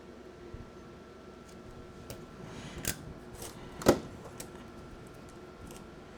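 Scissors snipping through excess Tyvek and patterned scrapbook paper, trimming them flush with green cardstock on a wallet album page; a couple of close, crisp cuts stand out over a quiet room.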